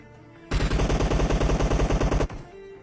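M4 rifle fired in a battle royale video game, a rapid sustained burst of about twenty loud, evenly spaced shots lasting under two seconds, then an abrupt stop.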